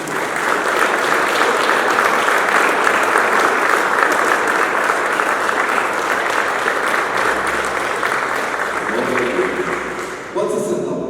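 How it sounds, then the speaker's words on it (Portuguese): A church congregation applauds loudly and continuously during a Sunday worship service. Voices call out under the clapping, which fades near the end. "Uma salva de palmas para Jesus."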